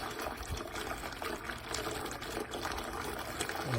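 Water rushes steadily through an iSpring reverse osmosis filter system during its final flush, a continuous faint hiss and gurgle held at an even level with no talk.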